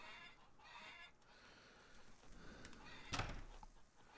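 Soft clucking of chickens in the video game Farmer's Dynasty, in quiet surroundings, with a brief sharp knock or bump near the end.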